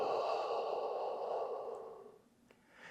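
A long, soft exhale during a stretching exercise with a slight turn and reach, a steady airy breath that fades out after about two seconds and is heard close and alone.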